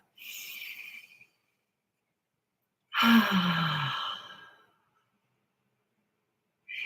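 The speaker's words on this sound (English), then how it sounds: "take kind of one big, slow, deep breath" One big, slow, deep breath, a soft inhale followed by a longer, fuller exhale with a slight voiced sigh, close and alone in silence.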